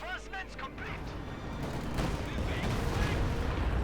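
B4 howitzer artillery fire in the strategy game Company of Heroes 2, heard as a dense rumble of booming blasts and crackling gunfire building over a few seconds, with a commentator talking over it.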